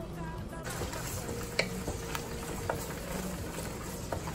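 Onions and shallots frying in a little oil, a steady low sizzle with a few soft clinks and scrapes of stirring, heard close up.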